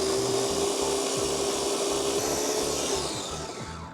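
Blender whirring through a mix of mayonnaise, garlic, thyme and rosemary for a prime rib coating, a loud steady motor drone with a rhythmic churning pulse, alone and easing slightly toward the end.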